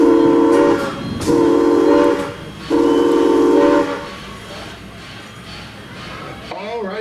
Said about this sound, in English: those whistles mean we're about to depart